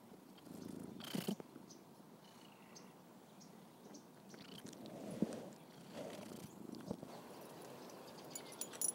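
A cat purring close by, quietly, as a soft low rumble that comes and goes in a calm indoor setting, with occasional faint clicks and rustles.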